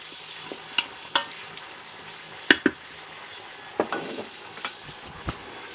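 Beef shank pan liquid sizzles and evaporates in a Ninja Foodi, a soft continuous crackle punctuated by sharp pops and scraping clicks of a utensil against the pot, close and without talk.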